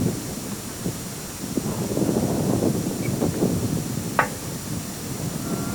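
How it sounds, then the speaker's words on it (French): Wind gusts across an outdoor mini-golf course during a 1989 televised mini-putt competition, buffeting the microphone with a steady low rumble and broadband rush that swells and eases, with no talking. "le vent devient de plus en plus redoutable"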